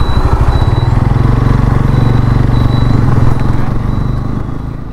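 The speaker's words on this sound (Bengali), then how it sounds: "আমি বাইক নিয়ে যাচ্ছি" A motorcycle rides through a traffic jam near the airport, its steady, loud engine drone running continuously and easing slightly toward the end, with no talk over it.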